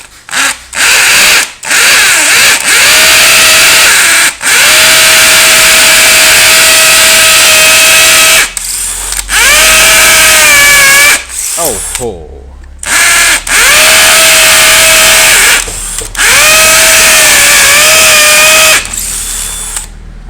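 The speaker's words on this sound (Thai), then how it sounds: "แรงมากนะครับสว่านตัวใหญ่นี้นะครับ" A loud heavy-duty DeWalt cordless hammer drill whirs in several bursts, spinning up to a steady high whine and stopping between runs, close to the listener.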